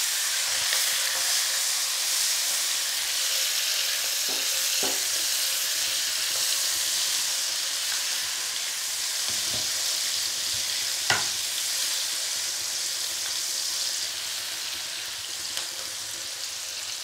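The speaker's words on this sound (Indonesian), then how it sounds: "Kita goreng." Chili, tomato, garlic and shallots fry in oil for sambal, giving a steady loud sizzle with occasional stirring clinks and scrapes and no talking.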